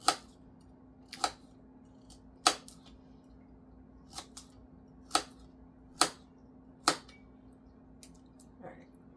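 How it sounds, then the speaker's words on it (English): Sharp, isolated cutting snips ring out one at a time, about eight over several seconds with uneven gaps, as a knife or scissors take the last bits down to tiny pieces on a cleaned kitchen counter for a summer drink, against quiet room tone. "So I'm just going to cut the last little bit of this in little tiny pieces"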